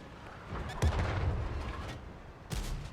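A tank cannon fires in World of Tanks with a sharp heavy boom, followed by a rumbling tail, and a second blast comes near the end, standing out over a steady battle background.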